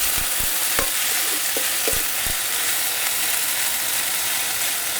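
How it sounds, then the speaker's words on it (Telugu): Ginger garlic paste frying with onions in a pan for chicken biryani, a bright, steady hiss of hot oil with a few dull taps and scrapes of a spoon early on, close and unbroken by talk. "ఒక చెంచా అల్లం వెల్లుల్లి పేస్ట్ వేసుకుని పచ్చివాసన పోయే వరకు వేయించుకుందాం"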